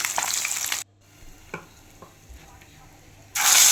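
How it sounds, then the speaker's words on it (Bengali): Pieces of rohu fish lightly frying in oil, a loud hiss of sizzling that drops away for a few seconds with small taps and clicks of handling, then surges back strongly. "খুব একটা কড়া ভাজবো না, হালকাভাবে সাঁতলে নেবো"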